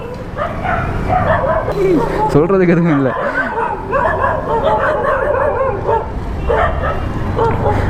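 Dogs bark and yip repeatedly in the background, with a whimpering tone at times, under steady nearby talk.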